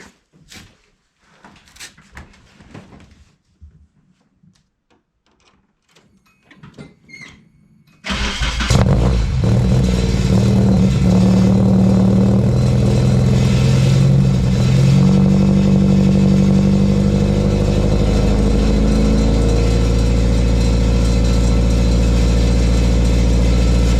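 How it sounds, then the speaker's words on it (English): A 1991 Nissan 240SX with a KA24DE engine and a worn old exhaust cranks after several quiet clicks and knocks, then catches and settles into a loud, rough, continuous idle close by. "I'm gonna start it up so you guys can hear how bad this old one sounds."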